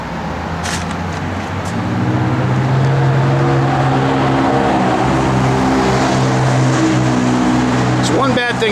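A 1956 Chevrolet Bel Air engine runs loud and close in a smooth, steady idle hum, with a brief voice near the end.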